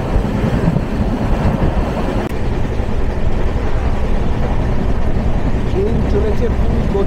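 A passenger train from Adra speeds along in pouring rain, its continuous loud rumbling and clatter heard from inside the carriage, with some faint background voices mixed in.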